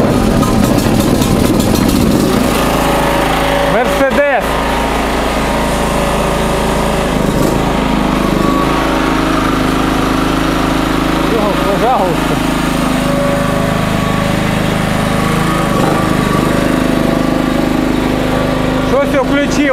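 An Edon 3300 petrol generator's small engine runs steadily and loudly throughout, its constant hum broken by a few brief transient clicks, with a person talking over it.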